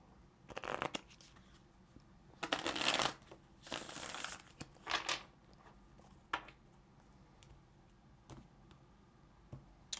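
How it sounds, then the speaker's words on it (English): Tarot cards are shuffled in a few brisk riffling bursts, with quieter taps and handling noises in between, close and otherwise quiet. "let's get one more shuffle."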